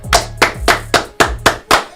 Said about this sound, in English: Two claps for Wyatt.